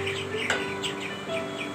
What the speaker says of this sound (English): They are known as migratory birds.